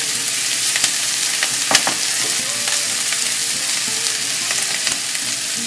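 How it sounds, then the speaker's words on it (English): Onions and garlic sautéing in a hot pan give a steady close sizzle, broken by scattered sharp clicks and scrapes of stirring, fairly loud and continuous with nobody speaking. "The onions and garlic have been softening for a few minutes in the hot pan"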